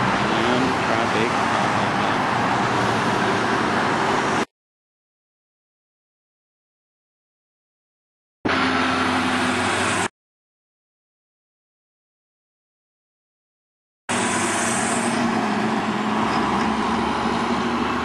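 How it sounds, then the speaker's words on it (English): Road traffic rushes past in a steady roar of cars and trucks, heard in three segments separated by total silence, with a voice speaking over it. "And traffic."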